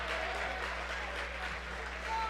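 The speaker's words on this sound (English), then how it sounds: "The Halstead faithful clapping that they finally got a foul called" Crowd clapping in a high school basketball gym, Marion versus Halstead, after a foul call, a steady broad wash of applause at moderate distance with a low hum underneath.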